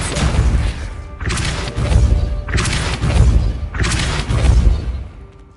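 Depulso spell casts in Hogwarts Legacy, four heavy booming blasts at roughly one-second intervals, each a loud thudding burst that fades before the next.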